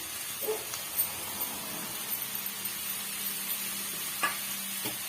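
Grated potato being sautéed in a pan as stuffing for chilli bajji, making a soft, low sizzle with a few light spatula scrapes and taps scattered throughout, fairly faint and without talk.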